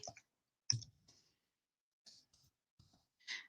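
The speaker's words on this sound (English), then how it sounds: "I'm not normally this bad at typing" Sparse, soft clicks of a computer keyboard in short irregular bursts with pauses between them, close and faint in a quiet room.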